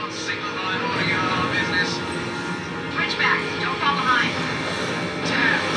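Fighter jets in the video game Ace Combat Infinite roar steadily with a continuous engine rumble and whooshing passes, under game dialogue and voices.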